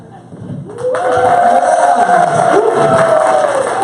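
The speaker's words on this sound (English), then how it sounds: "Hold the applause, everybody." A live crowd at the opening of a corporate comedy event in Chicago bursts into loud cheering and whooping that swells after a quieter start, then holds steady as a dense roar of voices.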